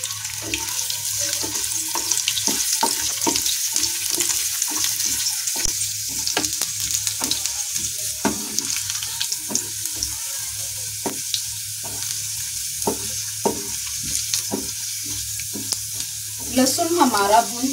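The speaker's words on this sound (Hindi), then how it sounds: "इधर हमारा ऑयल गरम हो चुका है, सबसे पहले मैं इसमें लहसुन डाल दूंगी" Thick-cut garlic sizzles in hot oil for a restaurant-style malai kofta, a steady crackling hiss broken by frequent stirring clicks and scrapes, close and moderately loud with no talk.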